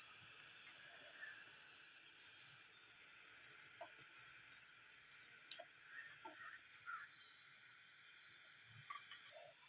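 Mustard seeds sizzle in hot oil heated in a ladle for tempering vegetable sambar, giving a steady, fairly quiet hiss with scattered small pops and crackles throughout.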